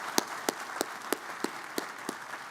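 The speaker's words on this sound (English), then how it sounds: "Let's give him a round of applause." Applause for a football coach at a university on-campus stadium groundbreaking comes as a short run of about eight sharp, evenly spaced claps, fairly close and with little crowd noise around them.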